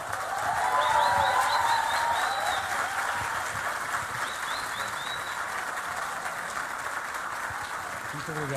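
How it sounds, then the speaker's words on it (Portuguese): A standing audience applauds loudly and steadily at a talk on emotion management by Dr. Augusto Cury, the dense clapping holding for the whole stretch, with whistles and a few voices cheering over it. "receber com um forte aplauso Dr."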